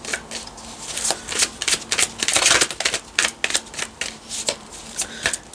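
Tarot cards being shuffled by hand in quick bursts of riffling and flicking, close and fairly loud, with brief pauses between bursts and no talking.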